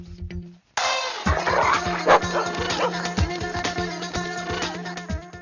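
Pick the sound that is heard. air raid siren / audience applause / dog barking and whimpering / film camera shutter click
dog barking and whimpering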